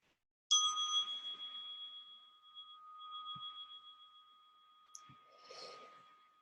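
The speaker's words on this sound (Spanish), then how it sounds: "Y vas a escuchar el gong, el sonido de un gong." A single gong strike rings out with a bright attack and a long, sustained shimmering tone that slowly fades, with faint breathing and small handling noises near the end in a quiet room.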